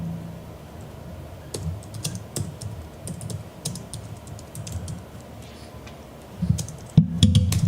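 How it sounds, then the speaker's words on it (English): Close computer keyboard typing at a desk: quick irregular runs of keystroke clicks with short pauses, and a heavier clatter of keys near the end, with no voices. "If I talk while I'm typing,"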